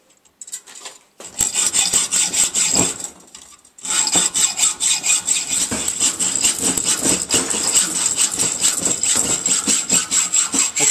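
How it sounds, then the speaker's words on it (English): A hacksaw cuts through the end of a threaded steel bolt, loud rhythmic back-and-forth rasping strokes close up, with a short pause after the first few strokes before steady sawing resumes. "So I can now get my hacksaw again, and I can cut the end of this off"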